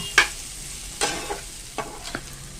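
Potato and bottle gourd stems frying in a pan over medium heat, heard as a faint background sizzle punctuated by four distinct scraping strokes of a spatula stirring, the first one sharpest.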